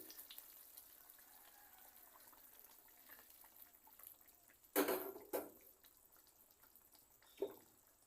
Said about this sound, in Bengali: এখন ঝোলের পানি দিয়ে দিব